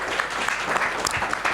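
A Sunday church service congregation claps together loudly in a dense, continuous burst of applause lasting a moment.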